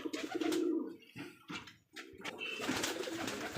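Rajshahi giribaz pigeons at a farm coo in soft, throaty rolls, close by, with rustling, a wing flutter and other farm noise around them.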